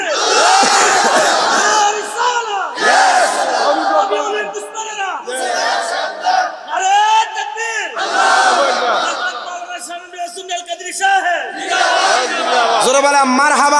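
A large congregation at a Shab-e-Barat religious gathering shouts "marhaba" loudly in unison, with several long, powerful, repeated crowd cries filling the space and only brief dips between them.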